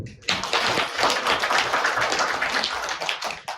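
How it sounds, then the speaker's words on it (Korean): An audience at a hotel business presentation bursts into dense, continuous applause that starts abruptly and holds steady for several seconds before tapering, loud and close with no talking. "박수 한번 주세요"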